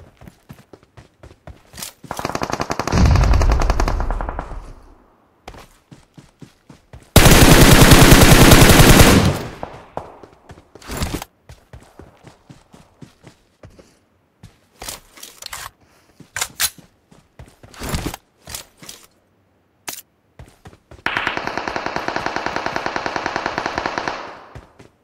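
Gunfire in the mobile shooter BGMI, Battlegrounds Mobile India, in its school area: loud sustained automatic bursts alternate with sharp single shots and rapid clusters of cracks, with short silent gaps between.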